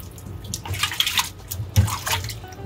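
Water splashing and sloshing as goat meat is rinsed in a bowl for curry, with lime juice added; irregular close-up swishes and pours, alone without talk.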